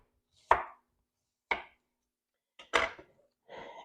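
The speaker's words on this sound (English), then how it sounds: "Just peel it, and then you're just going to cut it into thin slices." Knife chopping through a peeled vegetable on a cutting board, slicing it thin for a Greek salad: four separate crisp cuts about a second apart, close and clear with quiet between them.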